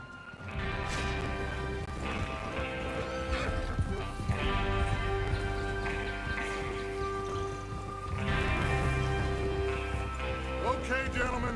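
Several horses in the Red Dead Redemption 2 video game gallop together, their hooves drumming in a dense, continuous clatter, with loud whinnies breaking through and occasional muffled voices underneath.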